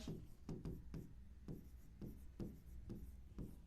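Writing on a board during a classroom lesson: a faint series of about eight scraping strokes in a steady rhythm, with no voices.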